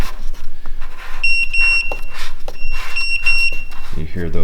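Garmin Echomap fish finder on a boat giving two sets of paired electronic beeps, clear and high-pitched over steady background noise.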